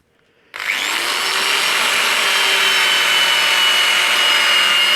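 After a moment of quiet, a power tool starts up and polishes a disc brake adapter and support for an electric bike's front hub-motor wheel, giving a loud, steady, high whirring grind that continues close and unbroken.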